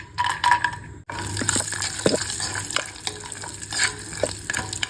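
Cashew nuts fry in a teaspoon of ghee in a pan, crackling and sizzling close up while being stirred and scraped, after a brief pause at the start, with no voice over it.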